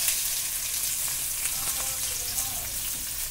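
Onions sizzle loudly as they hit hot oil with panch phoron for a Bengali fish curry, a steady dense crackling fry that carries on without pause.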